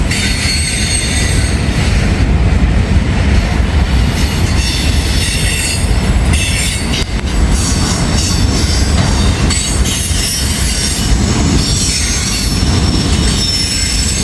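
A CSX freight train rolls loud and close over a railroad diamond crossing in a small Indiana town, wheels squealing steadily with clickety-clack thumps throughout, no talking.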